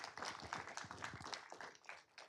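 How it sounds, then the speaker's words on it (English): A small group applauds Scouts at a city council meeting, faint steady clapping that carries on throughout with a little chatter underneath. "Let's give them a round of applause."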